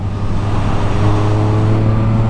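A brand-new Yamaha MT-09 motorcycle, still in its break-in period, revs up close by with a steady, rising engine drone that is clear and loud, and no voices over it.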